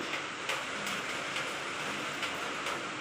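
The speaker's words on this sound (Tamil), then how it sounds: "நாலு நாளாக தொடர்ந்து மழை தான் ஃப்ரெண்ட்ஸ் மழை விடவே மாட்டேங்குது" Steady rain keeps falling after days of downpour, a dense even hiss with occasional faint drips and ticks, close and continuous with no voices.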